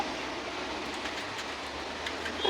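An AC passenger train rolls past in a busy town, giving a steady, loud broadband rumble and rush with faint clattering wheel noise, heard alone with no talking.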